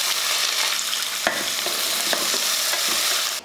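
Whole spices fry in hot oil in a home kitchen: cardamom pods, cloves, cinnamon and star anise. The sizzle is loud, close and continuous, with a few sharp crackles and pops, and no talking.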